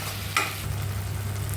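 A spoon stirs tomato masala in a pan while cooking masala bhat: one quick scrape stands out early over a low, steady sizzle, close up and without speech.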